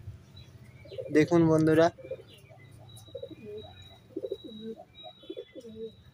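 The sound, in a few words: pigeons cooing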